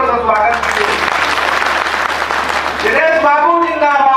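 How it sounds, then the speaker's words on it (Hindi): Audience clapping to welcome a speaker at a panchayat representatives' gathering in a dharamshala hall, a dense burst of applause lasting a few seconds, with voices on a loudspeaker before and after. "एक बार तालियों से स्वागत कीजिए।"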